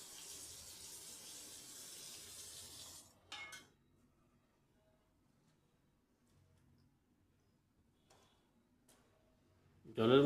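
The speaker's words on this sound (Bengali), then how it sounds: "পরিষ্কার জল নিয়ে ওই কাটা থোরগুলোকে আমি আবারও জলের মধ্যে রেখে দিচ্ছি" Cut banana stem pieces dropped into a bowl of clean water, a steady running-water rush for about three seconds, then near silence with faint clinks and a brief loud clatter at the end.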